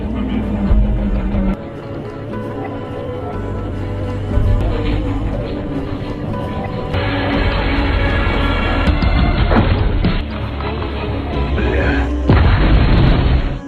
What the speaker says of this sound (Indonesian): Revan berhasil menghabisi Seri dan meledakkan 1 orang sniper lainnya